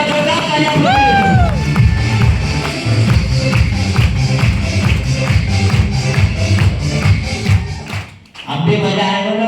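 A crowd claps together in a fast, steady rhythm, loud and sustained for several seconds, with a brief vocal sound near the start and a short dip near the end.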